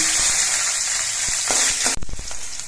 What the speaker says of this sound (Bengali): তেলটা গরম হয়ে যাওয়ার পর এর মধ্যে অল্প করে একটু সর্ষে দিচ্ছি আর চারটে চেরা কাঁচা লঙ্কা দিচ্ছি